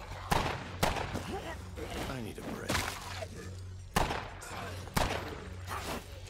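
A handful of punchy gunshots ring out one at a time in the zombie survival video game State of Decay 2, loud and close, while someone talks over the game sounds.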